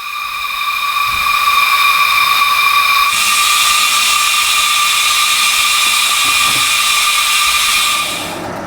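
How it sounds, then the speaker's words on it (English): Electric tyre inflator pumping a car tyre up to 32 psi: a steady, loud mechanical whine with strong tonal hiss that shifts up partway through, running continuously for several seconds before cutting off, with no talking. "Now I'm going to pump the tyre up to 32 psi."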